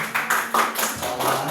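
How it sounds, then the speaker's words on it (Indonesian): A classroom of students claps during an Islamic religious studies lesson, in a run of short, quick bursts of fairly loud hand claps with a faint voice underneath. "Jadi oke, tepuk tangan."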